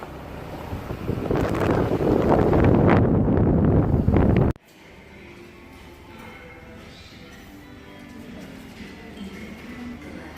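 A ferry station in Patagonia, Chile, heard outdoors: loud buffeting wind rumbles across the microphone at first, then drops to quieter open-air ambience with a soft steady background hum.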